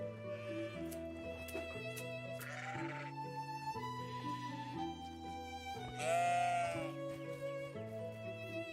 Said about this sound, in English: I didn't realize we had this many sheep now.